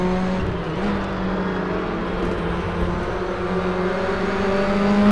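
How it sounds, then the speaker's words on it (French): A small four-cylinder Formula Raceroom Junior race car engine in a racing game drones steadily, a continuous mid-pitched motor hum that swells slightly toward the end, with no talking. "c'est un bruit d'un petit moteur comme ça"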